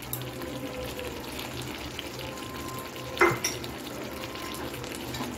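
Chicken tehari frying in a pan with cumin, garam masala and sour yoghurt mixed through, a steady sizzle under repeated spoon stirring and one sharp clink midway, close by, without speech.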